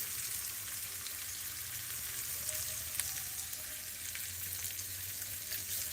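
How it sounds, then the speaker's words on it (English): Beaten egg mixture poured into a hot skillet for a machaca dish with shredded beef and vegetables, giving a steady, close hiss of sizzling and frying with faint crackles and no talking. "Now take your egg mixture and you're going to pour it over."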